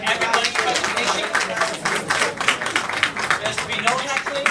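An audience at a panel presentation claps in scattered, uneven bursts, with many hands striking at once and the clapping rising and falling over the whole stretch.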